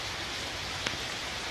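Steady evening rain in Bangalore, a dense even hiss of falling drops with a single faint tap near the middle.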